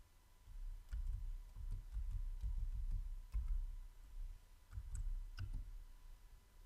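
Keys click on a computer keyboard as a password is entered: a quiet run of soft, irregular taps, each close and faint, with no one speaking.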